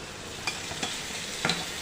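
Mango pieces with salt and chili powder are stirred in a hot pan: a low hiss of frying with two or three quick scraping strokes of the spoon, close by.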